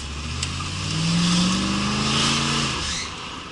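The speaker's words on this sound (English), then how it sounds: "I needed to do that engine rev there" A car engine revs up and then eases off, a rising, close throaty drone that swells in the middle and fades with no talk over it.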